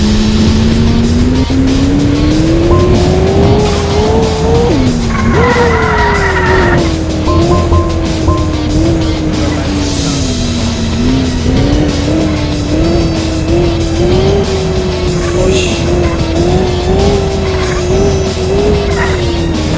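A police patrol car in a police simulator video game drives hard, its engine droning with a wavering pitch, tires squealing, and a siren-like tone rising briefly partway through, loud and continuous.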